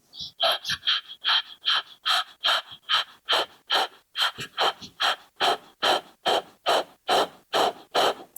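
Rapid, forceful breath-of-fire exhales through the nose during a yoga core exercise, about two sharp puffs per second in a steady, even rhythm, close and clear with no talking.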